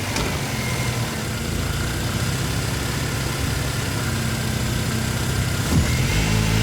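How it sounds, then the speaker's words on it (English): A car engine runs steadily during a drive into town, captured close up from inside the engine bay as a constant loud rumble with a slight swell near the end. "Going for a drive into town, have a microphone in my engine bay"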